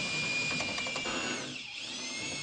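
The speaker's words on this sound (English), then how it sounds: "Walk the drill up to the cross brace, pushing the shaft to force the bit flat against the wall before you start drilling." A power drill with a long flexible shaft whines steadily as it bores through a wall to pull a cable, then its pitch sags and dips as the bit bites and loads up, with no talk over it.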